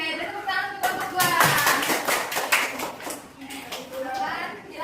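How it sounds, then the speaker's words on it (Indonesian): Classroom applause for a student group after its microteaching practice presentation: scattered hand clapping for several seconds, fairly close, with voices talking over it. "tepuk tangan untuk kelompok dua"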